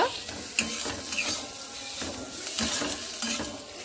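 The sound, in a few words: stirring egg filling on cabbage in a frying pan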